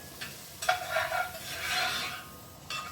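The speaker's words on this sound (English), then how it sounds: "You can hear it browning a little bit." Soft sizzling of spaghetti sauce with garlic powder, parsley and Italian seasoning browning in a pan, with light scraping and a few faint clicks, fairly quiet and close.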